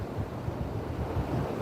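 Atlantic Ocean surf rolls onto a beach at night, steady waves washing in under gusting wind that buffets the microphone, with no talking.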